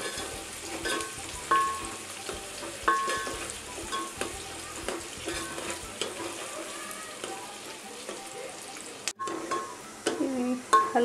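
Onions sizzle and crackle steadily in a hot pan over a high flame, with occasional stirring scrapes and small clinks; a continuous, close frying hiss.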